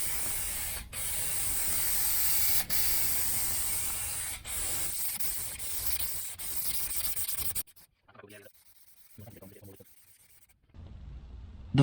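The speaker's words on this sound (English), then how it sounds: "I'm going to overlap each pass with the gun and just get that glue right into the pile" A spray gun lays glue onto carpet lining for van and campervan panels, a steady close hiss broken by brief pauses, then falling to quieter, intermittent spurts near the end.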